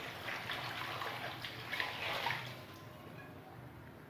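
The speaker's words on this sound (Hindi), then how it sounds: "इसमें पानी डाल देंगे।" Water is poured into a pot of bong paya as a steady, soft, continuous splashing stream that stays fairly quiet and even throughout.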